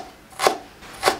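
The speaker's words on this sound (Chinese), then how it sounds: "最后切成姜末" A knife chops ginger down into mince on a board, making two sharp, close knocks about half a second apart against a quiet background.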